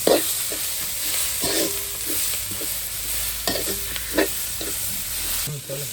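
Ginger and garlic sizzle and fry in a pan for a Jaffna temple-style mutton curry, with steady close hissing broken by several scraping stirs of a utensil.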